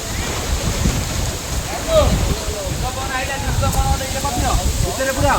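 A heavy pre-monsoon rain and wind storm at the Baba Dhabaleswar shrine blusters into the microphone as a loud, continuous gusting rush, with a person's voice talking faintly underneath.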